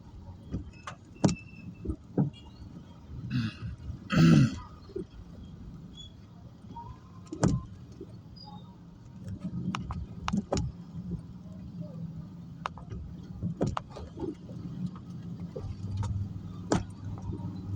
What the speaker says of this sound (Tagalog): Dito sa amin, maliit ang kalsada pero dumadaan itong mga truck na to.